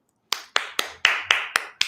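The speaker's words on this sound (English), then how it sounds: "Yes, I'm clapping for Regina King" One person clapping in honour of actress Regina King: seven sharp, evenly spaced claps, close and distinct, each ringing briefly with no talk over them.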